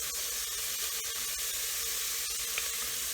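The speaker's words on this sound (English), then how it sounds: "you can hear the sound of the sizzle disappearing a little bit" Ham spaghetti sizzles in a pan as it is stirred, giving a soft, steady hiss with small scraping ticks from the utensil scattered throughout.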